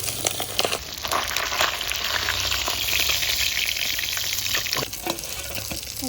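Pabda fish frying in hot oil, a dense, loud crackle and spatter of sizzling that runs steadily throughout with brief sharper pops, with no voices.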